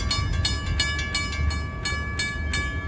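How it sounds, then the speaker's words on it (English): Diesel commuter trains pass at New Hyde Park station, a loud continuous engine and wheel rumble with sustained horn tones and a regular series of rhythmic clacks from the cars rolling by. "Well, here's the start of the diesel barrage."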